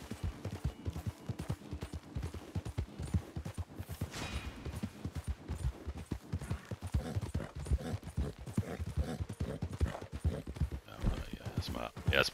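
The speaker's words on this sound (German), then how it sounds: "Dann reiten wir mal eben zurück zur Schwarzbrennerei" Horse hooves gallop in a steady, fast clip-clop rhythm throughout, ridden in Red Dead Redemption 2, with occasional neighs, and someone talks over the riding.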